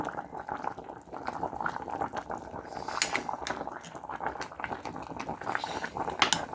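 Chicken soup made with chicken legs and pepper boiling in a pot, a steady close bubbling and simmering with occasional clinks, no talk.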